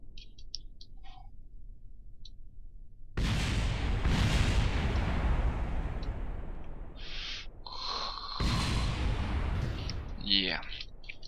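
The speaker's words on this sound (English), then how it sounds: "That's a lot of explosions." Explosions in the space game Kerbal Space Program: two heavy booming blasts, each a sudden loud burst that rumbles and fades over several seconds, with faint chirps and hoot-like tones between them.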